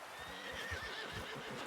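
An invisible, bewitched horse in a medieval role-playing game gives a quick whinny along with hoof thuds and clops, heard close and fairly quiet with no voices over it.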